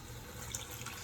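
Water pours from a container into a cooking pot, a faint, brief splashing trickle heard alone.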